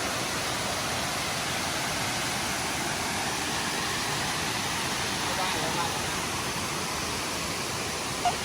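Water rushes over the falls at Tat Kuang Si in Laos, a steady, loud, broadband roar that holds unchanged throughout without any break.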